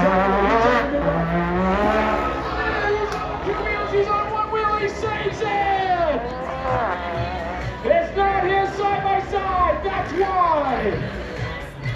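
Yamaha UTV race vehicle, number 777, in a CSRA UTV 1000 Production race, its high-revving engine sweeping past with rising and falling pitch, loud amid other engines, with commentators talking throughout.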